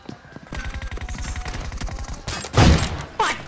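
Gunfire in the PUBG battle royale game, a rapid volley of shots rattling steadily for about two seconds, then a louder, heavier burst near the end, all close and sharp with no talking.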